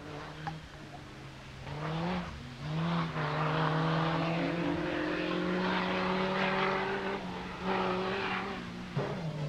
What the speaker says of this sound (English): Then comes another dealer Opel Team Ireland entry, the Kadett GSI of David Wright